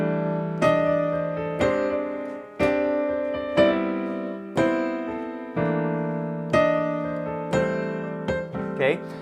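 Sixteenth notes played in the A grip scale technique ring out as a steady series of plucked, bright pitched strikes, roughly one per second, each decaying before the next, with a brief quick flurry at the end and no talking.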